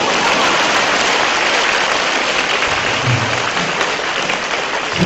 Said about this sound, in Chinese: 笑完之后鼓鼓掌啊。